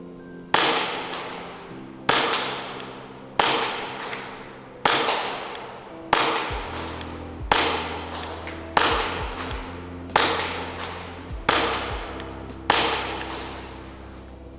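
WE Galaxy airsoft pistol fired at a target 50 feet away: ten sharp, evenly spaced cracks at roughly one-and-a-half-second intervals, each with a short decaying tail over a steady low hum.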